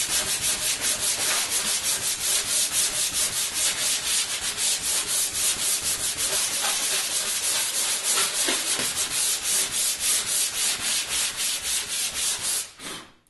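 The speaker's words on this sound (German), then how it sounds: "Wir können auch hier eine leichte Rundung anschleifen und so lange schleifen, bis das hier bündig ist" Sandpaper rubbing rhythmically along the edge of a wooden Sela snare cajon kit, a close, loud, steady back-and-forth rasp of quick even strokes that stops abruptly at the end, without talk.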